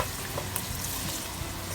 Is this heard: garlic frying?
yes